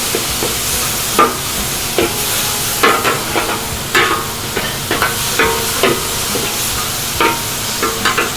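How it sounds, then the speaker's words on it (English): Bitter melon and minced chicken stir-frying in a hot pan, a constant loud sizzle broken by regular scraping and clanking strokes of the spatula, with no talk. "mix it up again, Julie stir it, okay"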